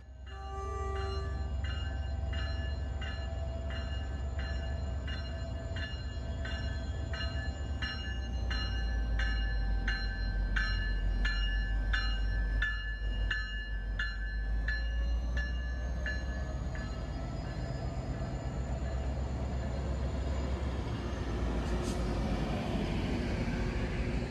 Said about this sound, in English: the rescue train quickly got off the layover track